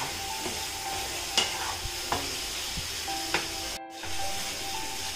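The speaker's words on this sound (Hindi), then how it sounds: "जो भुना हुआ आलू था उसको मैं डाल देंगे, इसको भी थोड़ी सी भून लेंगे" Roasted potato pieces with spices frying in a pan for an aloo soyabean sabji, a steady soft sizzle broken by a few sharp clinks and scrapes of stirring, heard up close with no talking.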